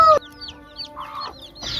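Newly hatched black chicks, hybrid and Bangkok chicken breeds, cluck and peep in short bursts nearby, with a brief louder chirp at the start and soft calls scattered through.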